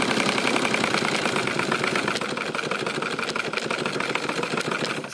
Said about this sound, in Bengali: এবারে আবার সেলাই করব, দেখো আবার সেলাই শুরু হচ্ছে